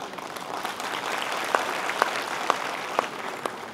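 Audience applause at a summit in Lucknow, a sustained patter of many hands clapping at moderate distance, with a few sharper individual claps standing out near the end.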